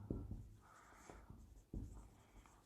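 Chalk or marker scratches and taps on a board during an Arabic grammar lesson, a run of short strokes close by under a low room hum, with no talking.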